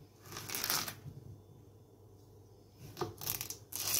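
A knife cuts zucchini into pieces on a board, giving short scraping, crisp slicing bursts in two clusters separated by a quiet gap, close and fairly soft, with no talk.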